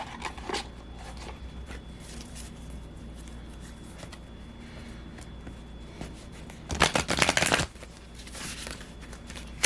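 Tarot cards being shuffled by hand: soft close riffling and sliding of cards over quiet room tone, with a louder burst of rapid flapping shuffles near the end.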